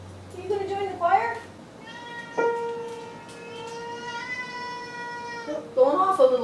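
A cat meows indoors, a few sustained tonal cries, one held long and steady, mixed with a person's coaxing voice talking and imitating the meow nearby.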